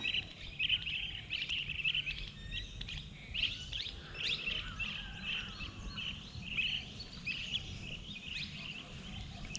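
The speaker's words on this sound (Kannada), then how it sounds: "may be ಬರ್ಡ್ಸ್ದ sound ಕೇಳೊಂದುಪ್ಪು" Birds chirp and sing outdoors in village countryside fields, with repeated bright tweets in short bursts over a soft ambient background at moderate distance and no speech.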